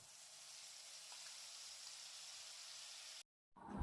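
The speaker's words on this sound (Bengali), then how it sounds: "মশলাটা একটু কষিয়ে নেব।" Spice paste of turmeric and dried red chilli powder with salt being fried in a pan for a vegetarian doi potol (pointed gourd in yogurt) dish, giving a steady, quiet hiss of sizzling that cuts out briefly near the end.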